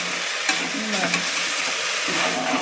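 Chigal greens dry roasting in a pan with no oil, with steady scraping and stirring and a soft continuous sizzle, close by and with no voices.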